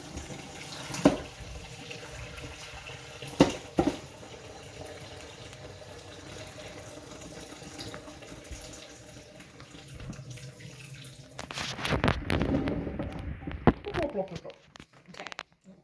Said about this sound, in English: when it's all gone through the colander, you can just pour cold water over it.